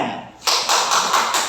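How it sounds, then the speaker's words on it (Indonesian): Classroom students applauding in a burst of brisk clapping that starts suddenly after a quiet moment and continues steadily, close and fairly loud. "Kasih tepuk tangan"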